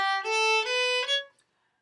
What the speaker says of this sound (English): I'm on a viola right now. Sounds something like this.